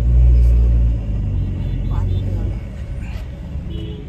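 A car engine rumbles low and steady while the vehicle is parked near the Savatsada waterfall on a Konkan road trip, loud at first and then easing to an idle.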